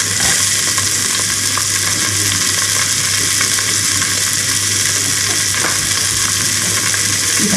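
Brisket and a whole onion frying in a pot for Texas chili, a loud continuous sizzle with a steady low hum and occasional small clinks.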